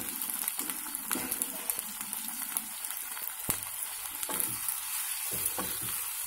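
Half a kilo of chopped tomatoes hits hot oil seasoned with asafoetida, producing a soft, moderately quiet sizzle broken by irregular crackles and stirring clicks, with no voices.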